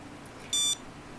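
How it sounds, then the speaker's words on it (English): An IR Watchdog alarm gives a single short electronic beep, high-pitched and clear, over faint room hiss. "So first it just kind of beeps, and then it starts beeping more and flashing more."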